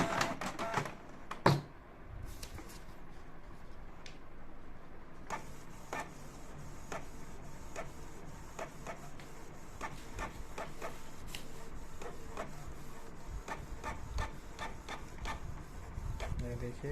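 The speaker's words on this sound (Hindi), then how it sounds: "तो अभी देखते हैं कलर प्रिंट करके देखते हैं।" A Canon Pixma G-series inkjet printer (G3000/G2000/G1000) runs a colour test page, with repeated sharp ticking clicks and mechanical rubbing from the carriage and paper feed, heard close with a steady low background hum.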